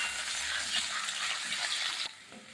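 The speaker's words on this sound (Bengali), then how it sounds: "লাল লাল করে ভেজে নিচ্ছি।" Potatoes frying uncovered in a pan for a traditional Bengali dish, giving a steady, moderately close sizzle with light stirring clicks, ending with a soft knock.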